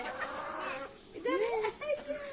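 Chickens cluck and squawk nearby in short bursts, with rising and falling calls against a faint outdoor background.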